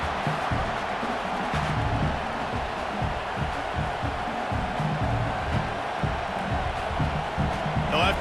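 A college football stadium crowd before a field goal attempt in Tennessee Volunteers versus Vanderbilt: a steady, distant roar of many voices fills the air beneath a commentator talking.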